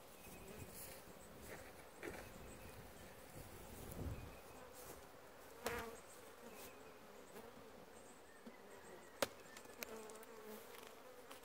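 A full honey bee colony of aggressive bees hums with steady buzzing during a walk-away split, a dense continuous drone with occasional louder passes of individual bees close by.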